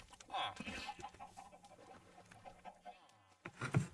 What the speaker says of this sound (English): Did that chicken actually follow us?